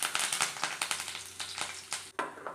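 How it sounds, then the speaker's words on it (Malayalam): Curry leaves and dried red chillies hit hot oil with popped mustard seeds, giving a close, crackling sizzle with irregular sharp spits and pops throughout a Kerala tempering. "കടുക് പൊട്ടി വന്നിട്ടുണ്ടെങ്കിൽ അതിലേക്ക് കറിവേപ്പിലയും വറ്റൽമുളകും ഇട്ട് കൊടുക്കാം."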